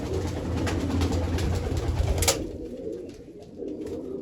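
Pigeons coo in a loft, soft repeated throaty calls over a rough, close background rustle that drops away halfway through, leaving fainter cooing.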